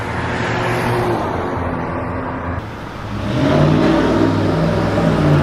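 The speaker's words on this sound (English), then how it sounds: "that guy was revving up his engine behind me" Town traffic rolls by with a steady engine and road rumble, and a car behind revs its engine with a rising, droning pitch that grows louder midway, heard close without any talk.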